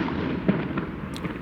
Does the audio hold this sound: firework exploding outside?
yes